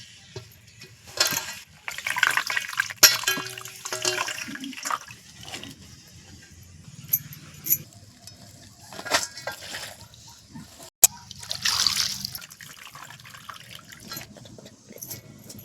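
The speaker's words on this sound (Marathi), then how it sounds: "आता एकदम पाण्याने चांगली धुवून काढते." Fenugreek greens freshly picked from the fields being washed under running water, with intermittent splashing, dripping and rinsing bursts close by, some louder gushes and quiet pauses between them, no talking.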